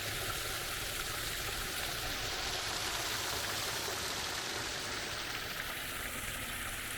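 A small waterfall stream near a medieval chapel sends up a constant, even rush of splashing water, broadband and close, with no voices over it.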